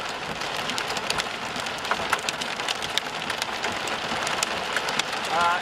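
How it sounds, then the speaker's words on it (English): Rain pours onto a road on Highway 183 blanketed with several inches of hail during a severe storm, a dense crackling patter with sharp droplet ticks, steady and close, with a voice heard over it. "And now it's raining on the hail."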